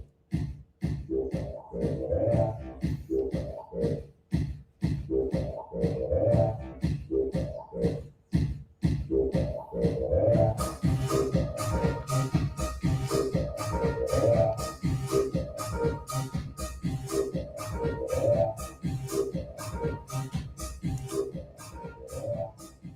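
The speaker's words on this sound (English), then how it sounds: "It's house music." A steady four-on-the-floor electronic dance groove with thumping beat and bright synth layers, adding crisp hi-hats partway through; loud and continuous.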